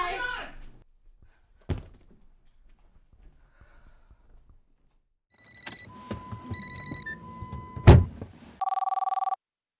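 A cell phone rings with a short, steady electronic tone near the end, after scattered thuds, rustling and background movement in a quiet room.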